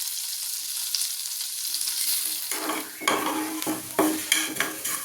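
Rice frying in ghee in a hot pan, starting with a bright steady sizzle, then loud scraping stirs and clanks of the utensil against the pan in quick strokes, close up.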